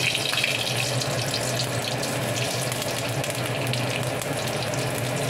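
Whole spices hit hot oil in a pan and sizzle in a steady, even hiss that holds at a constant level with no talk.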